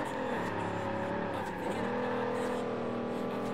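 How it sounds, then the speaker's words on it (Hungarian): A Bentley Continental GT drives in Forza Horizon 2, its engine holding a steady, loud whine and hum that dips briefly as if shifting or easing off, then settles back into a sustained drone. "Már 4 kerekes Bentley Continental GT."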